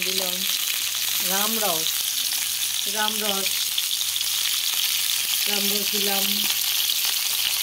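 Mango fries in oil with five-spice (panch phoron) while being stirred, giving a constant bright sizzling hiss throughout. A voice speaks in a few short phrases over it.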